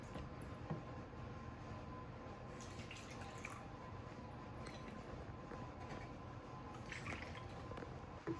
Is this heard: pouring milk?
yes